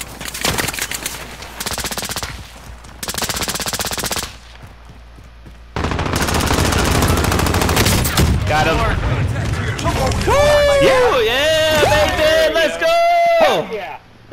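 Bursts of automatic gunfire in the Call of Duty: Modern Warfare video game, loud rapid volleys in separate stretches, with players talking over the shooting.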